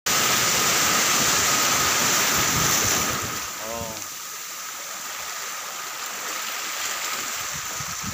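Gentle surf rolls in at a beach in Tarragona as a steady broadband wash, loud and close with wind on the microphone, softening partway through, and a voice is heard briefly.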